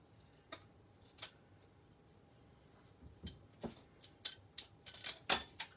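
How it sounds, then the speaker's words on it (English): Scissors snip through a piece of material to cut it in half, a few sparse cuts early on followed by a quicker run of sharp snips close by, with no talking. "I'm going to cut this in half and see if I use it doubled up"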